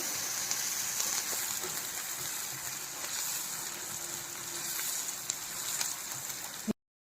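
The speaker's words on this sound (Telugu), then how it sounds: "ఎండ్రాయిలు ఎర్రగా వేయించుకోవాలి వేయించుకోకపోతే అది పచ్చివాసన నీచు వాసన వస్తాయి" Dried prawns frying in a pan until red, a steady, even sizzle and crackle of hot oil that continues at moderate volume throughout and then cuts off abruptly.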